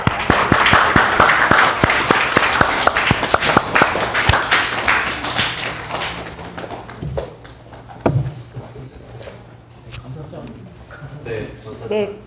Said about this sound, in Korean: 최창호 원장님을 큰 박수로.